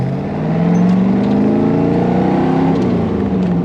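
A 1966 Chevrolet Corvette C2 Stingray V8 revving on throttle, a loud, close, steady rising engine note that climbs in pitch and holds without pause.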